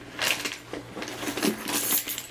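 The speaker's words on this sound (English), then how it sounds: "So I got my car keys, my house keys up in here," A bunch of car and house keys jangles and clinks metallically in quick, irregular bursts close by, with no talking over it.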